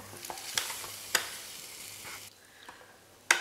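A closed waffle iron cooks Nutella and strawberry waffles with a soft, steady hiss, broken by a few sharp clicks and taps nearby, fairly quiet overall and with no talking.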